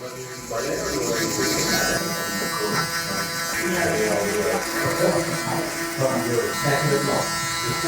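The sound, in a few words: electric hair clippers cutting a skin taper fade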